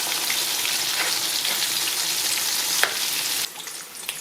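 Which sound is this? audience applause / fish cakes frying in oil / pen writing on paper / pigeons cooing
fish cakes frying in oil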